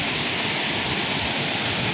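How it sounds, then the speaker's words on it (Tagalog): Loud, steady rushing water pours without a break, a dense roaring wash of a powerful waterfall close by during a storm near Dumaguete. "Malakas na yung tubig."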